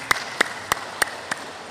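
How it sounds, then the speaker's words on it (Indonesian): Five sharp, evenly spaced claps in a steady rhythm ring out from a church congregation during a Sunday service, crisp and in unison, with quiet room tone between them. "Kita beri tepuk tangan untuk kemuliaan Tuhan."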